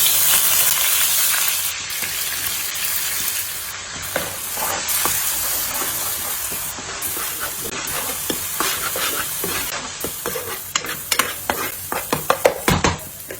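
Onion paste frying in hot oil for a fish curry, a steady close sizzle and hiss with stirring scrapes that grow busier and more clattery toward the end.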